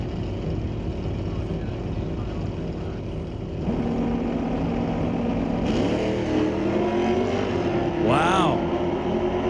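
Pro Bracket drag race cars at Mission Raceway: a loud, steady engine roar that swells as the cars launch and accelerate hard down the strip, with an announcer talking over the noise.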